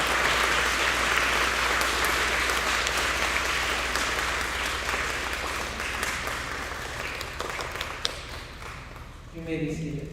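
Graduates receive applause at the IACC Taqwa graduation ceremony: a loud, sustained wash of clapping from a large crowd that gradually fades, with a voice speaking briefly near the end and a low hum beneath.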